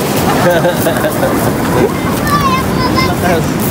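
Strong sea waves surge and wash along the seaside shore in a steady, loud roar with gusting wind across the microphone, while people talk nearby over the surf.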